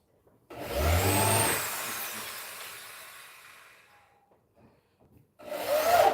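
A power drill drives screws into wood while building a drum kit platform, giving a rising whine and grinding burst that tapers off, followed by a pause and a second short burst of drilling.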